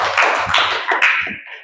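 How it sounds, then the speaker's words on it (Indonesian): A classroom of primary pupils claps together in a short, bright burst of hand claps, close and fairly loud, with a few separate sharp slaps standing out. "Tepuk tangan dulu."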